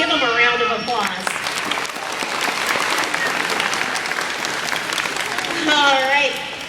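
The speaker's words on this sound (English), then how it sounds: "Let's give them a round of applause" Audience applause rings out at an Indianapolis Zoo dolphin show, a steady wash of clapping from a crowd lasting several seconds, with a few cheers and voices mixed in near the start and end.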